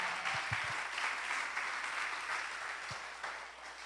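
A church congregation applauds the Lord during a sermon, moderate clapping with a few low thumps, fading gradually toward the end.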